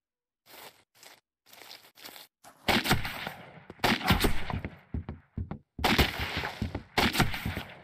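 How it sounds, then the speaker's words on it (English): Gunfire in the Who Is Abby video game, scattered shots and bursts starting as sparse cracks and then growing into denser, louder volleys with short gaps between them. "They're shooting from somewhere, so maybe back from the cabin?"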